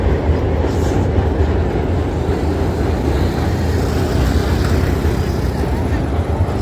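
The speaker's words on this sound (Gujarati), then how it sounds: "બહુ લાંબી ટ્રેન છે" A long train rolls past close by near Prayagraj, making a loud, continuous rumble of wheels and wagons that holds steady from start to finish.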